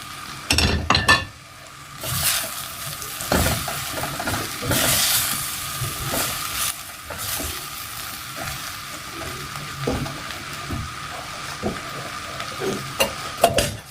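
Meat and spices sizzle in a hot pan while a utensil stirs and scrapes, with irregular clinks and knocks of metal against the pot over a steady frying hiss, close and without talk.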